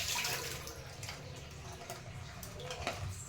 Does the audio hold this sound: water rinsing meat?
yes